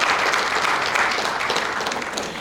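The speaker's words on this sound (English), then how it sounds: "Let's give them a round of applause," Audience applause follows the introduction of a group of named people, a steady, fairly loud wash of clapping that runs the whole stretch without talk, easing slightly toward the end.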